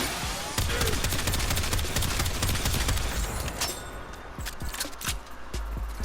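Rapid bursts of weapon fire from the Astilla in the video game Warframe, a dense run of sharp cracking shots for most of the stretch, easing into scattered impacts and clinks near the end.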